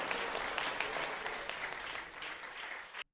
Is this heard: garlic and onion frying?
no